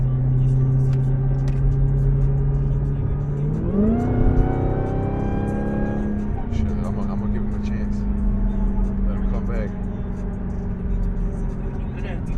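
Loud engines of a Cadillac CTS-V and a Dodge Hellcat idle, then one revs up sharply and drops back to a heavy rumble, close by on the street, with people talking excitedly throughout.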